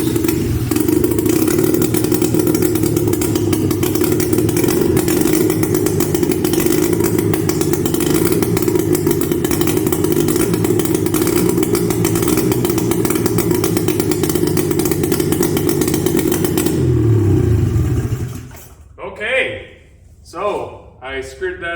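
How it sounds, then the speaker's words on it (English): A 1977 Polaris Colt 250 snowmobile engine, a barn find just reassembled with a timing fault, runs steadily and loudly at light throttle, then cuts out, followed by excited voices. "It's running! It's running!"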